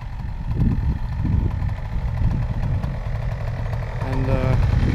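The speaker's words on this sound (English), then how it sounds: "Motor's warming up" Motor warming up and idling at a windy coastal launch on the Isle of Sheppey, a low steady rumble up close under wind noise, with a brief tonal whine near the end.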